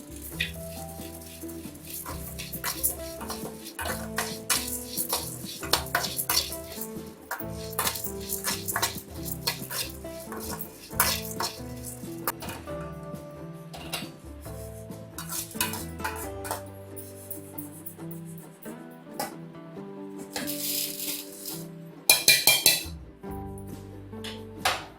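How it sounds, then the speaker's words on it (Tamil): Toor dal dry roasting in a pan for homemade sambar powder, stirred with a utensil, a steady run of scraping and rattling strokes with clinks against the pan, close and fairly loud with no talk. "அடுத்தது துவரம்பருப்பை வறுத்துக்கணும்."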